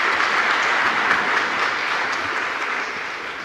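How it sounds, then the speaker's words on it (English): Dense, steady applause from an audience at the opening session of an international swift conference, a continuous wash of many hands clapping together that stays loud throughout and eases off slightly toward the end. "And give her a round of applause, please."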